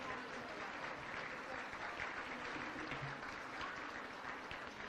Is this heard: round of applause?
yes